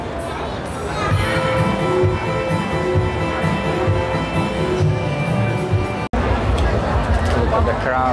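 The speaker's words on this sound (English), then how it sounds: "Crowd getting bigger and bigger." Dense babble from a large New Year street crowd in Bangkok fills the scene steadily, with many overlapping voices and general bustle close around.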